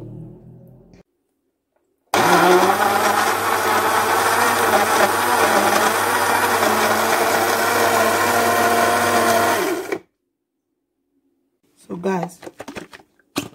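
A countertop blender whirs loudly and steadily for about eight seconds as it purees banana and mango into a smoothie, starting and stopping abruptly, with a few brief bursts of voice after it stops.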